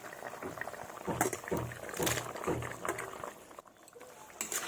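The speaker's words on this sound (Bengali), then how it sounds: "এবার আমি ভালোভাবে ফুটতে দেব" Fish and okra curry bubbling in a pot, a steady low simmering burble with a few soft utensil knocks, close and moderately loud, with no talking.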